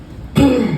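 A comedian on stage at a New Orleans club imitates a suspicious cough with a single short, gruff throat-clearing burst, close and loud against faint room noise.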